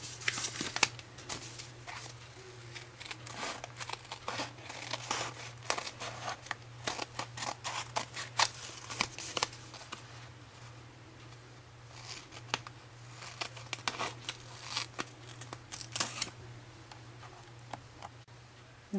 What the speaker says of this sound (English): now I'm going to trim all this excess cardstock right here off.